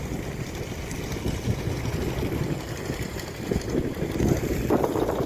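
Gusty stormy wind without rain blows past a house under construction, a continuous low roaring rush that buffets the microphone and swells in stronger gusts toward the end.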